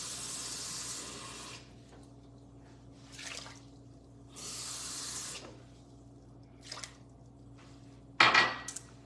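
Water pours into a pot of rice in short bursts, each a hissing splash lasting about a second, separated by quiet gaps, ending with a sharp clank of the pot.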